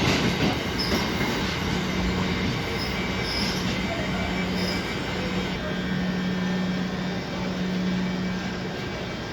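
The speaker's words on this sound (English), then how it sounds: "This is a fast train." A fast train from Cambridge to London King's Cross rushes past on the line, a loud continuous roar with a faint wheel squeal and a steady hum sustained throughout.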